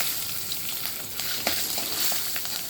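Cumin, curry leaves, peanuts and green chillies hit hot oil in a pan, making a continuous bright hiss with small crackles and pops, steady at moderate loudness and free of talk.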